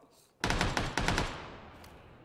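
A rapid burst of video game gunfire, several sharp shots in quick succession, loud and close, then fading out.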